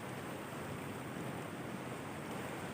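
Swollen Amaravathi river water rushes fast near Dharapuram, a loud, steady roaring wash close by with no break or talk.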